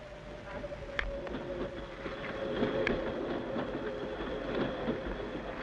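Steam locomotive 4472 runs on a 1960s railway line, a steady rumbling roll with rhythmic clicks of wheels on rail joints and a faint sustained tone, heard at a moderate distance with no one talking.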